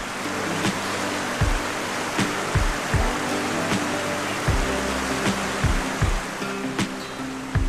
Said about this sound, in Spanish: El río atraviesa una hermosa zona selvática